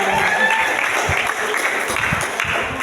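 Audience applause at a school motivational gathering before national exams, a steady wash of clapping lasting the whole span with faint voices mixed in.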